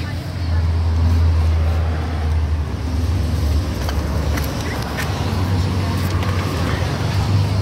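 A 1997 Opel Vectra engine idles steadily and loudly with a low continuous hum throughout.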